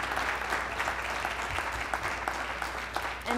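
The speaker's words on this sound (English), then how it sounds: "Let's have a round of applause" An audience claps together after a city council candidates' debate for the 2007 Ward 3 race, a continuous rush of applause that holds level throughout and has no speech over it.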